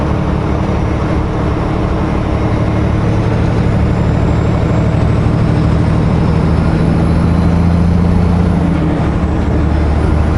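Steady, loud road rumble and engine drone from traffic on a winter road in the Okanagan, with a pickup truck accelerating past toward the speed limit, continuous without talk.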